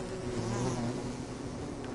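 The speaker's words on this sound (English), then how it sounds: "Bees are over here still mad." Angry bees buzz in the video game Don't Starve: Reign of Giants, a steady, dense swarm drone holding level throughout with no talk over it.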